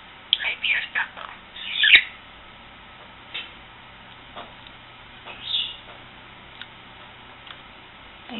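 A pet budgie gives a few sharp chirps and soft chattering sounds near the start, then sparse quiet ticks and squeaks follow against a hushed room.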